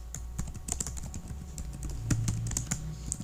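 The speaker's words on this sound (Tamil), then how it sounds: "ஸோ இந்த மாதிரி நான் என்னுடைய கண்டென்ட்டை நான் டைப் பண்ணுறேன்" Content being typed on a computer keyboard, a run of quick irregular key clicks with a few heavier thumps, close and clear, no talking.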